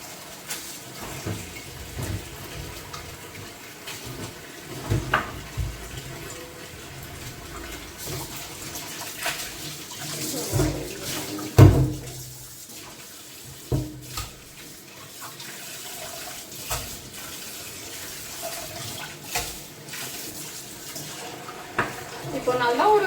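Dog food is rinsed under a running kitchen tap, water splashing and gurgling continuously with occasional knocks of a bowl or dish, while a person talks over it.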